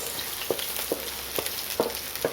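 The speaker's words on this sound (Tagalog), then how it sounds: "Unang ilalagay natin sibuyas. Yan, haluin na natin yung sibuyas." Onions frying in hot oil in a pan, a soft steady sizzle broken by several light scraping stirs at irregular intervals, quiet and close.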